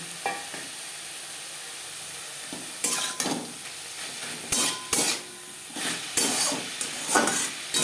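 Greens being stirred in a pan with fried lentil dumplings (bori), a soft sizzle under bursts of scraping and stirring that come every second or so.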